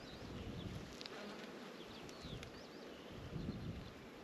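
Honeybees at an open beehive give a dense, continuous buzzing hum, fairly faint but steady, with individual bees droning past now and then.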